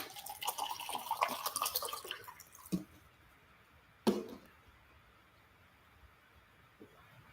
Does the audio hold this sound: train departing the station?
no